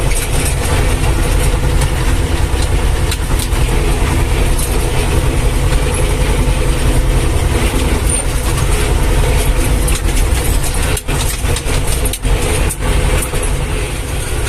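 A T-25 tractor engine rumbles steadily and continuously up close while hauling sawdust to a field, a low droning motor that holds throughout with faint rattling on top.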